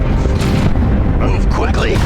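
Loud, dense battle din from Warhammer 40K Dawn of War 2 Chaos Rising: heavy booms and bursts of gunfire running continuously, with shouted commands over the top.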